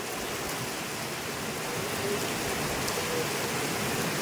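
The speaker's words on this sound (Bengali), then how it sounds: "দেখো মুষলধারে বৃষ্টি হচ্ছে, দেখতে পাচ্ছ পুরো সাদা হয়ে গেছে চারিদিকটা।" Torrential rain pours down outdoors in a dense, unbroken roar of drops on surfaces, loud and steady throughout with no voices.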